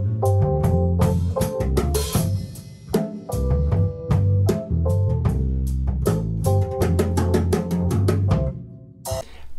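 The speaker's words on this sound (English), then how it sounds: "this is the sound of just like a single recording of the room." A live band session in a room, captured on a single phone, with full ensemble music of steady drum hits and sustained chords. The sound is loud and continuous, with a brief pause near the end.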